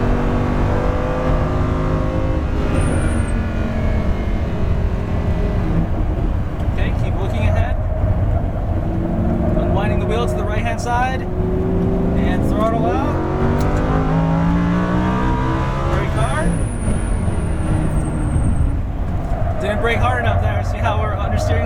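A Lamborghini Huracan engine revs and accelerates on a race track, its loud, continuous roar rising in pitch through the gears, with a voice talking over it throughout.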